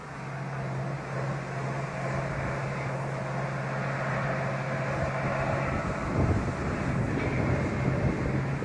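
Strong wind roars steadily against the microphone, a continuous buffeting rumble with gusts swelling toward the end.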